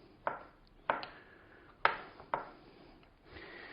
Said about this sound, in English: all I'm going to do is chop it up into little bite-sized bitties